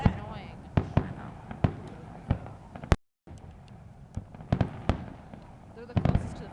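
Canada Day fireworks over Orillia burst in a run of sharp booms and crackles, spaced about a second apart, with a brief gap partway through.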